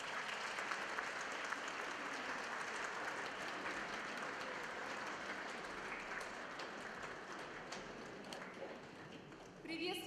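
An audience applauds a women's academic amateur choir from a Palace of Culture at a concert hall, steady dense clapping filling the room throughout, with an announcer's voice faintly under it and a brief swell near the end.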